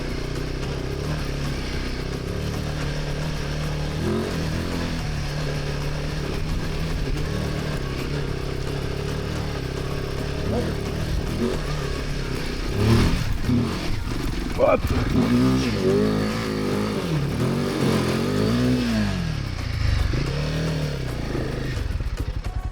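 Off-road motorcycle, a Kove 450 or Royal Enfield Himalayan, climbing a dirt trail: a steady mid-pitched engine drone that swells into repeated throttle blips and revs, loud and close, with rattling clatter over the terrain.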